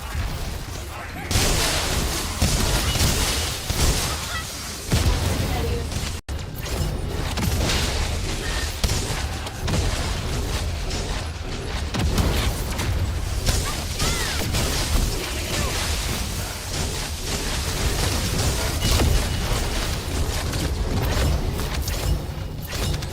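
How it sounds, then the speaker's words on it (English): Video game explosion in a sci-fi shooter: a loud, sustained roar of blasts, crashes and gunfire-like bursts with deep rumbling, continuous and dense throughout, with game voices mixed in. "That explosion right there is absolutely wild."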